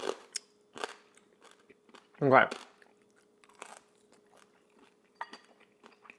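Sharp crunchy bites of air-fried lechon kawali pork skin and chewing sounds, one loud crunch standing out, with scattered clicks and a brief spoken word nearby.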